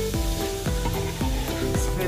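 Lamb stew spices sizzle in a pot for an Arabic-style stew, stirred in a steady rhythm of repeated scrapes about every half second over a continuous close frying hiss, with no talking.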